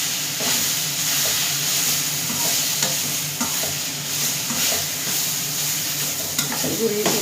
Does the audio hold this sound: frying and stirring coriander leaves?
yes